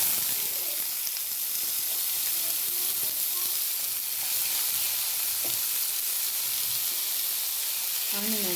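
Onions sizzle and fry in hot oil with fennel seeds in a pan, a loud, steady hiss with occasional stirring clatter, close up and unbroken, no one speaking.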